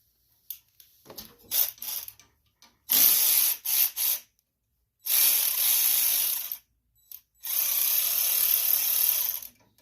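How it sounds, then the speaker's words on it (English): Ratchet wrench with a 15/16 socket loosening a bolt on a 2018 Cub Cadet riding lawn mower, clicking in several loud bursts of rapid pawl ticks separated by short pauses. "We're going to need a 15/16 socket, and this bolt right here, we need to take it off."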